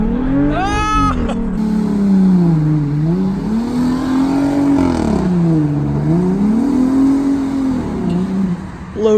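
A lifted truck's engine revs through a mud hole, rising and falling in long sweeping surges, loud and close, with a brief whoop of voices near the start.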